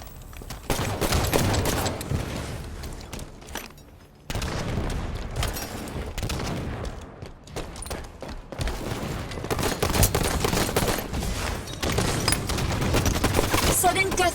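Rapid gunfire from a competitive video game match in sudden death, dense bursts of shots and explosions running almost continuously with one brief gap, loud and busy throughout.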